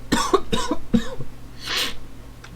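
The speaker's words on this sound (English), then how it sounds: "I've still got the coughs and the sniffles, by the way." Several short, close coughs in quick succession, followed by a softer throat-clearing rasp, with no talking.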